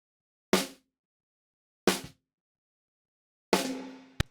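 Gated live drums with no plate reverb: three dry, punchy hits spaced well apart, each cut off sharply into silence, with the last one ringing slightly longer before a short click.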